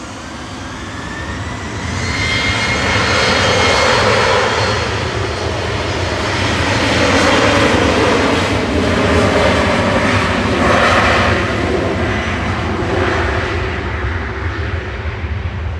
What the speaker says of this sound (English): Swiss Air operated by Helvetic, departing next, heading over to Zurich with flight 391. This is HBJBX, an E190LR